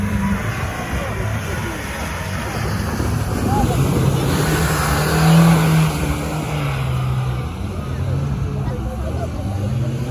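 Off-road race car driving a mountain track in Ossetia, its engine droning steadily with a louder rise in the middle, buffeted by wind noise throughout.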